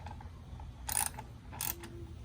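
A hand ratchet tightens the side-mirror bolts on a Polaris 1000 side-by-side. It gives two short, close bursts of rapid clicking over a quiet background.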